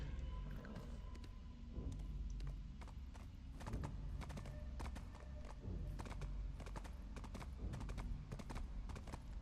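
Steady clip-clop of horse hooves trotting in Black Desert, with repeated sharp hoof strikes over a low rumbling background, no talking.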